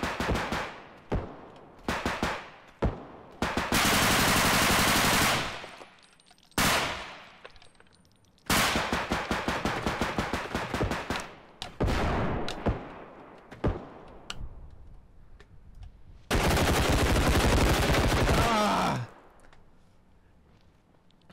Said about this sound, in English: I didn't see where the gunfire was going.